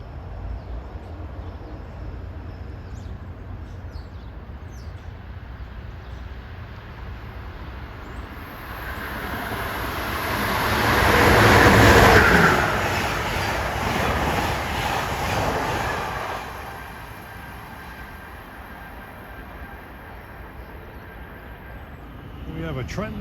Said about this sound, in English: Here comes a long distance day train. Number 89 of Amtrak, the Palmetto, between New York and Savannah,